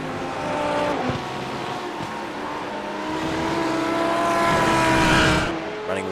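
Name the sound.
Ferrari race car driving in the video game iRacing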